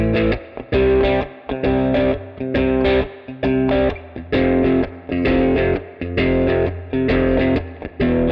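A distorted electric guitar chugs power chords from a song in a steady repeating triplet pattern, each group clipped short with a brief gap between, loud and close with no talking.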